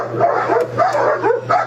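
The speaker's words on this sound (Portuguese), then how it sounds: "os cachorros tudo latindo lá" Several dogs barking and yipping near an opened gate, a rapid run of overlapping barks close by, loud and continuous through the moment.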